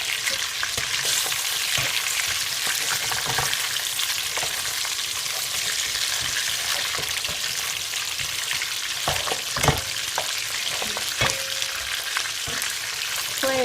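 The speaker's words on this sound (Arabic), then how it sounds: "بس هنا عندي دا يتحمس البصل واللحم." Onion and meat sizzle in oil in a pot for an Iraqi dried white bean dish, a steady close frying hiss broken by occasional stirring clicks, with no talking.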